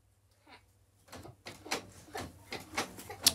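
A home printer feeds paper and prints, a series of rhythmic mechanical whirs and clicks rising in loudness after a quiet start, with a faint voice at the beginning.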